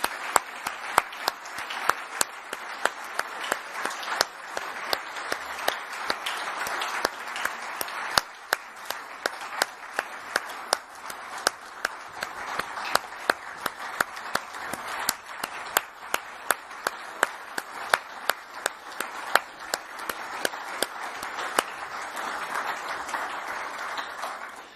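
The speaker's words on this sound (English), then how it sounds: "I think we should give all of them a big round of applause and recognize them." An audience at the ECB Forum on Central Banking gives sustained, dense applause at an award presentation, with many hands clapping steadily and evenly for the whole stretch and no speech over it.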